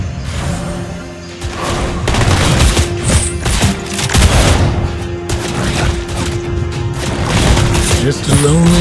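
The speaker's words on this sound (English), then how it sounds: "Try to outrun my double bullets" Clint's double-bullet gunfire in a mobile battle arena game comes as loud, rapid volleys of shots and impact booms, dense and continuous over game effects and a voice.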